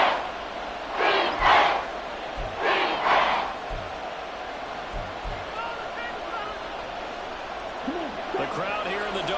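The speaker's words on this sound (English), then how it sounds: "The crowd here in the Dome making things difficult." A loud stadium crowd roars inside the Dome at a Saints home football game against Carolina, two surging swells of cheering, then a sustained murmuring roar with loud thumps beneath it.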